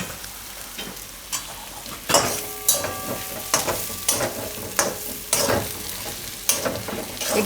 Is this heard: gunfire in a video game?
no